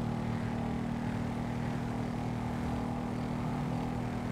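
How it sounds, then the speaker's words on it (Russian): Helicopter in the GTA 5 video game, a steady droning rotor and engine hum that holds at an even level for the whole stretch, with no talking. "Что за вертушка? Подозрительная."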